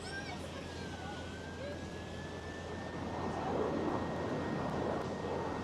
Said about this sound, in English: There it is, Cathay Pacific A350 1000, right behind the fence.